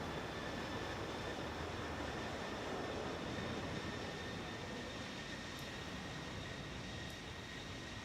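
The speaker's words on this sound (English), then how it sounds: "we can see the engine spooling up here" Embraer E-190 jet engines in the X-Plane 12 flight simulator during pushback: a steady, fairly faint broadband roar with a thin whine, holding level throughout with no voices.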